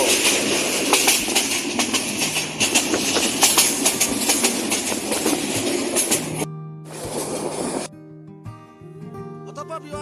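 A Parabat Express passenger train rumbles and clatters steadily along the rails between Sylhet and Kulaura, Bangladesh, loud and close, then the noise drops away abruptly near the end, leaving a quieter hum.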